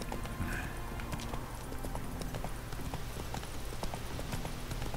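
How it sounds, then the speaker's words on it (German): Hooves of a horse ridden in the video game The Witcher 3 clip-clop in a steady, continuous rhythm, with the game's ambient sound underneath and no talking. "Wenn man den Ton von dem Pferd wenigstens ausschalten könnte"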